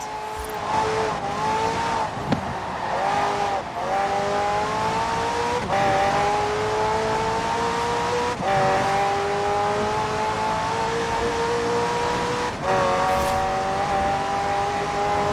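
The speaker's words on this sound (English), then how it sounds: "The car's blistering performance is delivered by a twin-turbo V8, supplemented by a McLaren ECU electric motor and instant power assist system." McLaren twin-turbo V8 hybrid supercar in Forza Horizon 4 accelerating hard through repeated upshifts, engine pitch climbing and dropping at each gear change, loud and continuous with a faint tire squeal.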